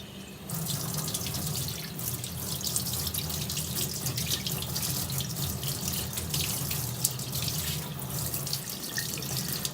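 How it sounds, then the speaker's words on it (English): A piece of RST wood being dunked in water, heard as steady splashing and running, tap-like water with small drips, close and continuous throughout. "I think you could even dunk this in water."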